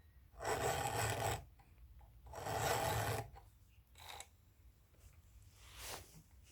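Hand filing a chainsaw chain with a round file under steady, moderate pressure: two strong rasping strokes, each about a second long, then a few shorter, fainter scrapes, close by with no talking.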